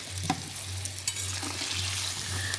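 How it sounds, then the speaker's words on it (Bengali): Fish being stirred in a simmering curry sauce in a pan, with soft scraping stirs and a steady gentle sizzle over a low background hum, close and fairly quiet with no voices. "মাছগুলো দিয়ে আমি হালকা একটু নাড়িয়ে দিলাম"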